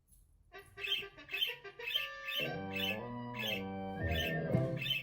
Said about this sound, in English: and you hear Dodo chirping like crazy in the background